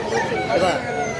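A rooster crows in a short, strained burst amid the crowded Mirpur 1 bird market in Dhaka, fairly close and loud against busy market noise, with voices in the background.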